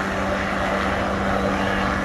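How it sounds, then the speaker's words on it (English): A helicopter ferrying linemen to power line poles at a Key Largo marina drones steadily with a loud continuous rotor and engine roar, no talk. "They're moving linemen with a helicopter out to the poles here"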